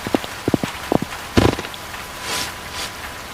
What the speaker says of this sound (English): Mom, it's starting to rain.